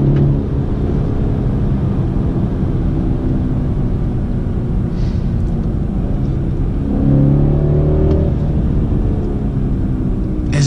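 BMW car engine in Sport mode with paddle shifters, accelerating with a steady low rumble that rises in pitch and swells louder toward the end, heard from inside without talk.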